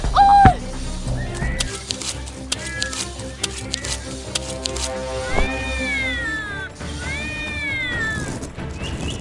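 A stray cat in an animated cartoon meows several times, with drawn-out, rising and falling cries spread through the scene over steady background music and sound effects.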